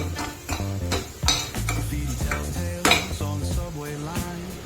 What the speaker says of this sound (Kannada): ಉಳ್ಳಾಗಡ್ಡಿ ತಾಳಿಸ್ಬೇಕು